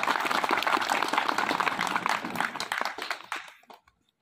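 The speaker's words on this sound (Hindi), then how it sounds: "अपने लिए और महाविद्यालय चुनाव समिति के लिए एक ताली" Applause for a college election committee, a crowd clapping loudly and densely, then thinning and fading to silence after about three and a half seconds.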